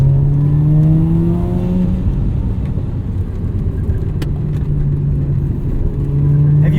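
A 1994 Mazda RX-7's rotary engine revs loudly from inside the car while driving, its tone climbing and dipping with throttle against a rough rumble of road and drivetrain noise.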